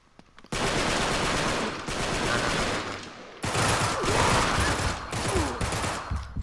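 Burst-fire rifle shooting in the video game Uncharted 3: Drake's Deception, with rapid, loud volleys of gunshots that run almost continuously, broken by a short pause before another heavy stretch of fire.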